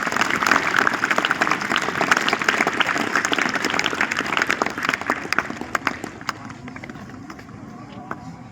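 An audience at a school event claps vigorously for the teachers and music teacher, a brisk crackling applause under a speaking voice that thins out and fades over the last few seconds.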